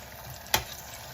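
Battered green beans deep frying in hot oil, a soft steady sizzle and bubbling with one sharp clack as they are turned over, close and brief, no voices.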